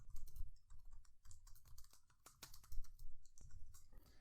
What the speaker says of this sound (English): To create the program, just type print hello world